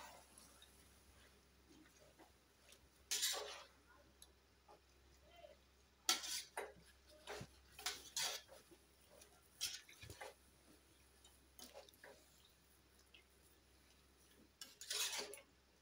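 A spoon stirs chicken curry with yogurt in a pot, giving scattered metallic clinks and scrapes against the pot's side in irregular bursts, fairly faint and close, with no voices.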